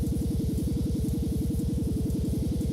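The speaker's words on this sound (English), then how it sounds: "repairing looks and sounds like this now" Repair tool from the video game Dual Universe, used on a ship damaged in a hard landing: a steady warbling electronic hum pulsing rapidly and evenly, loud and continuous with no talk.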